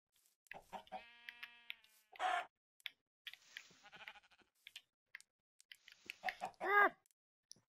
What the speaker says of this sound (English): Come here, you stupid chicken.